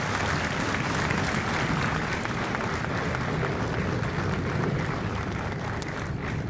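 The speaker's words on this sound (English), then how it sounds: "a round of applause for our recruiters and our combat instructors." Crowd applause at a Marine Corps recruit graduation at MCRD San Diego honoring recruiters and combat instructors, a broad, sustained roar of many hands clapping outdoors, even and continuous throughout.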